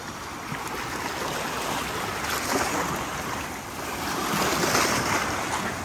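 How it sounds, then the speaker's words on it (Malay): Ocean surf washes in a continuous broad roar, swelling slightly louder toward the end, with wind noise and no talking. "Ombak dia"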